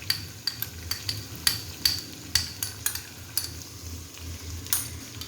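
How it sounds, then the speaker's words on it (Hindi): Fried mince and potatoes with ketchup stirred in a pan, a soft background sizzle punctuated by regular sharp clinks and scrapes of a spoon against the pan, about a dozen strokes at a steady pace. "आप देख रहे हैं कि सैम्यूल ने भी केचप डाला और तमाम चीज़ों को बहुत ही अच्छे तरीके से सैम्यूल मिक्स कर रहे हैं।"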